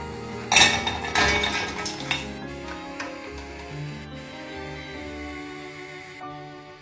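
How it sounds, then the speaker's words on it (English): Metal utensil clinks and scrapes against a saucepan as frozen raspberries are mixed with sugar, a few sharp knocks early on fading into softer, steady stirring. "in a saucepan, mix 250 grams of frozen raspberries with 80 grams of sugar on a medium heat for 15 minutes"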